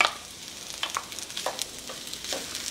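Chopped sausage hits a hot oiled skillet for a frittata breakfast, giving a soft crackling sizzle with scattered pops and utensil scrapes, fairly quiet and close.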